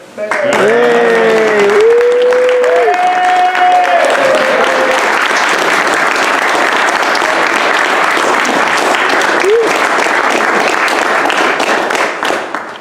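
A crowd at a gaming league finale in a Mansfield gaming venue gives loud, sustained applause for the tournament winner. Someone talks over the first few seconds, then the clapping continues alone.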